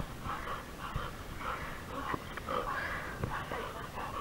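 A hog hunting lurcher dog, just pulled from a river after catching a hog, whimpers and pants in short repeated bursts close by, with outdoor background noise and no clear talk.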